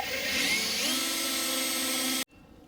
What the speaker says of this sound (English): I'm going to go a little bit extra slow as I move my drill around on the headlight